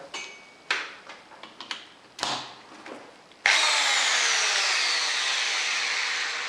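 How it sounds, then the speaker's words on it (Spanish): A series of short clicks and rattles, then a handheld electric drill whirs up and runs steadily, loud and close, for several seconds. "Esta taladradora es una taladradora manual."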